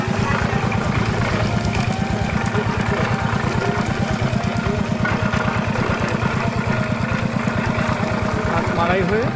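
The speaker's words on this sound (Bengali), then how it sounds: "আখ মাড়াই হয়ে চলে যাচ্ছে মেশিনে" A motorized sugarcane crushing machine runs steadily at a jaggery-making site, its engine chugging in a fast, even pulse that stays loud and close throughout.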